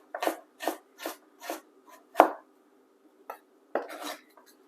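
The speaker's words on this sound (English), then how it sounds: "Then you're gonna cut them into strips" A knife slicing vegetables such as pepper into strips on a board, a run of five evenly spaced close cuts followed by a few quieter, irregular strokes.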